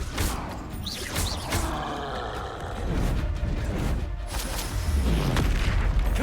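Repeated Confringo spell blasts and other spell effects in the game Hogwarts Legacy, a series of deep booms and crackling bursts that roll on over a busy, loud background.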